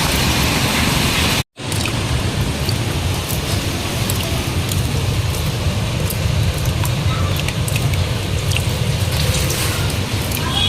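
Rain falling steadily outdoors at a home, a dense, even hiss of drops that continues without a break except for one momentary cut, fairly loud and alone with no talking.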